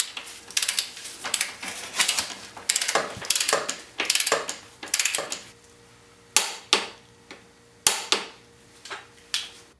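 A torque wrench and socket tighten the rear axle nut on a 1992 Yamaha XJ600 motorcycle, a series of sharp close ratcheting clicks in bursts, then several single loud clicks spaced apart.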